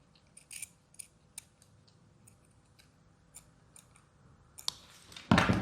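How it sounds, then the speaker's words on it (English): Scissors snip through a zipper for a fabric makeup bag: sharp, separate close cuts spaced irregularly, with a louder burst of rustling handling at the end. "I am now also cutting the zipper back to 22 centimeters."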